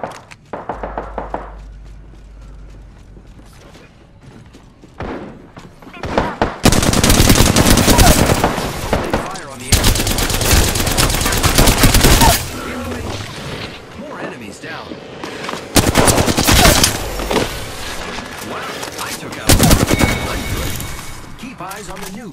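Gunfire erupts during an attack in a battle royale video game, with dense bursts of automatic fire and impacts in long loud stretches, separated by brief quieter gaps with talk.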